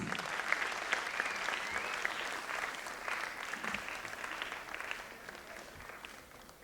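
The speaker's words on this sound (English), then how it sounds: "Keep clapping, audience." A school audience keeps clapping as trust board ladies are welcomed onto the dais, a sustained, moderately distant round of applause that gradually tapers off.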